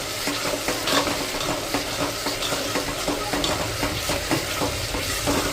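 Ground masala for mutton curry frying in a pan, a dense steady sizzle with frequent scraping stir strokes throughout, close and continuous.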